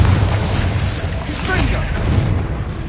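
A Confringo blasting spell goes off in the game Hogwarts Legacy, a deep, loud boom with rumbling debris that fills the short span, under a dense game soundtrack.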